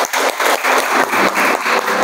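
Students in a classroom clap together in a loud, dense burst of applause that runs the whole time in uneven waves, with no voices over it.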